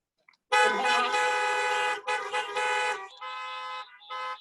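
Car horns honk together from an audience of vehicles at an outdoor city event, with one long, loud blast followed by several shorter toots.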